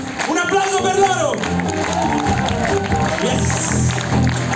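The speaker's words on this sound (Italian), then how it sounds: "Un applauso per loro!" An audience at a rhythm and blues band concert claps and cheers loudly for the sound and lights crew, a dense sustained wash of applause with shouts and a voice over the top.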